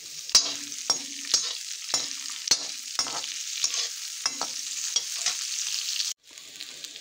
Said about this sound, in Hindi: फिर इसके अंदर अदरक, प्याज और एक हरी मिर्च डाल, इनको सबको भी भून लेना।